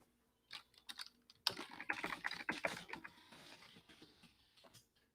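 Someone types a search query on a computer keyboard, starting with a few scattered key taps and then a dense, rapid run of close, quiet clicks that tapers off near the end.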